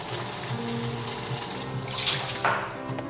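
Water running steadily from a kitchen tap while wild boar goulash is cooked, a soft continuous hiss with a brief splash as the flow hits something, fairly faint and without talk.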